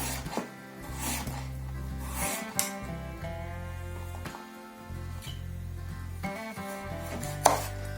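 A knife chops a halved carrot into small rings on a cutting board, steady rhythmic thuds close up with short pauses between runs, over a continuous background hum.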